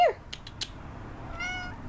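A small female cat meows indoors, a short rising call followed by a softer, tonal meow, close and fairly quiet.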